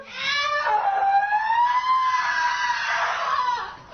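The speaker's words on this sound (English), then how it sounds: "when they begin removing her underwear and bra, she begins to scream" A woman screams loudly and continuously, a sustained high wailing cry with wavering pitch, distressed and close, with no speech over it.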